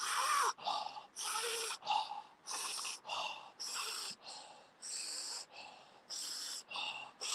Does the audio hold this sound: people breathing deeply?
yes